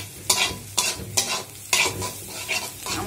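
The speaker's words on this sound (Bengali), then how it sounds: "প্রথমে তেলের মধ্যে পেঁয়াজ মরিচ হালকা বাদামি করে ভেজে নিতে হবে, তারপরে ডিম দিলাম" Onion and chili fry in oil with egg, stirred in a pan: a sizzling hiss punctuated by about six loud, rhythmic scraping strokes of a spatula, close and clear.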